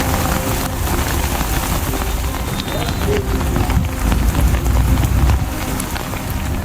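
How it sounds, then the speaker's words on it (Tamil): Heavy summer rain pours down in a steady, dense hiss under dark evening clouds, loud and continuous, with a low rumble of downpour throughout. "மாலை நேரத்தில் கருமேகங்கள் சூழ்ந்து மழை வெளுத்து வாங்கியது"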